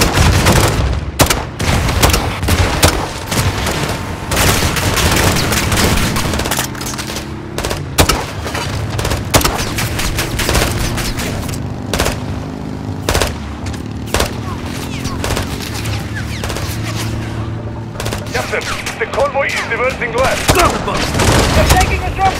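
Sustained gunfire in Call of Duty Modern Warfare 2, with crackling automatic bursts and single shots layered over a rumbling battle bed and occasional booms, loud and continuous, with voices now and then.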